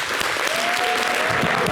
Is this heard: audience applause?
yes